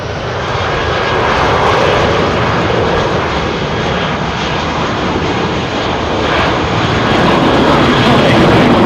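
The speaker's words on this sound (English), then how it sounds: "It's that little overspill that you commonly see out of the bottom of the 3XWB engine." Jet engines of an Airbus A350 XWB at London Heathrow Airport make a loud, continuous broadband roar that holds steady for the whole stretch, close and unbroken.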